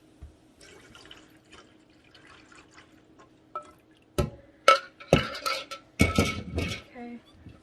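Hot oils and lye are poured together for hot process soap, a quiet trickle at first, then louder splashes and clinks of liquid hitting a container in bursts near the end, with a low hum beneath.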